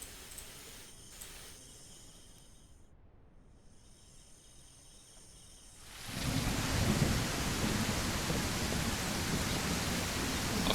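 Steady rain and rumbling thunder in the survival game Mist Survival. The storm starts fairly quiet, then swells into a loud, dense downpour about halfway through, with no voices.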